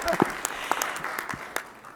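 Audience at a California Transportation Commission meeting applauding the new commission chair, a smattering of separate, fairly close hand claps and a few voices, thin rather than a full ovation.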